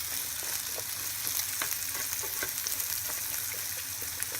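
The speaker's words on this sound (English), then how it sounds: "Throw my onions in there, kind of let those start to cook a little bit." Chopped onion frying in olive oil in a pan for sausage omelettes, a steady close sizzle with faint crackles and occasional light clicks of stirring.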